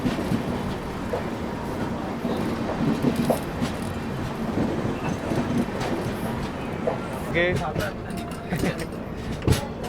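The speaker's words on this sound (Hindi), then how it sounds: "यहाँ से कोई तो ट्रेन पास कराई जा रही है, पता नहीं शायद से ये वाराणसी साबरमती है।" A Varanasi–Sabarmati express train passes on the rails, a continuous rumble with clattering wheel noise heard from nearby, while someone talks over it and a horn-like tone rises near the end.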